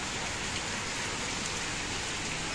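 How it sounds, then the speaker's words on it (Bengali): Heavy rain pours steadily at dusk, a dense, unbroken roar of drops close by, loud and constant throughout with no voices or thunder. "ভালোই বৃষ্টি হচ্ছে"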